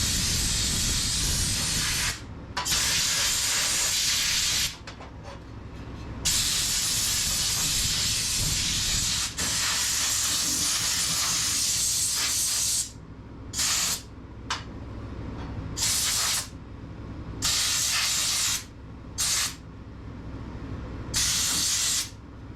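A Harbor Freight spot blaster sandblasts a bolt with loud, harsh hissing bursts of air and grit, starting and stopping repeatedly in short and longer blasts.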